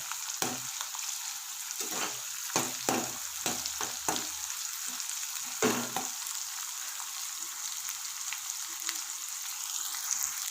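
Sesame seeds, ginger and garlic fry in hot oil with a bright, steady hiss, while a burst of quick stirring taps comes early and then gives way to continuous sizzling.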